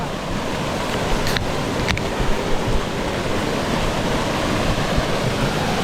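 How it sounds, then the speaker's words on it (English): Waterfalls at Lawn Hill in Queensland roar as a loud, constant broadband rush with a couple of brief sharp ticks, no voices over it. "And more waterfalls, and more waterfalls, and more waterfalls, and more waterfalls."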